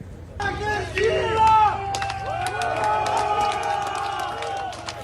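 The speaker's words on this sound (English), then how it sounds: "Here, locals are heard cheering for the mercenaries." Crowd of locals cheering for Wagner mercenary forces during their march toward Moscow, a continuous outdoor hubbub of shouts and voices with a louder swell early on, then steady babble.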